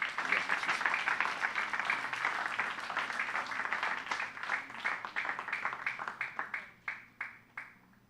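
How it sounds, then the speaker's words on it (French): A church congregation at a revival service breaks into vigorous applause, a thick, loud clatter of many hands that holds steady, then thins into a few separate, spaced claps as it dies away. "applaudissements très forts pour la gloire de Dieu"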